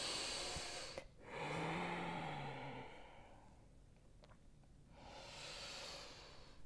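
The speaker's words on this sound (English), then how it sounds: "Ujjayi breath." Slow ujjayi breathing during a home yoga practice: a long, audible, breathy inhale-exhale with a soft whispery rasp, close and fairly quiet, then a pause before the next breath starts.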